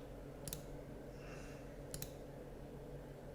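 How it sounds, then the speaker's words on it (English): Computer mouse clicking on a property map website, two quick double clicks heard faintly and close over a quiet room hum, with no talking. "I just clicked on base maps up here on the top left"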